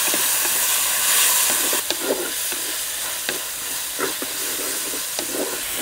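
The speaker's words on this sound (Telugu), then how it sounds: "కోసి పెట్టుకున్న ఒక్క టమాటా ముక్కలు వేసుకొని కొంచెం మెత్తబడే వరకు వేయించుకుందాం." Tomato pieces frying with browned onions in a pan for South Indian tiffin sambar, a steady loud sizzle and hiss with a few clinks and scrapes of stirring, no voices.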